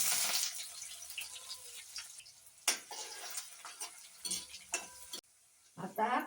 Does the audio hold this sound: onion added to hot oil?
yes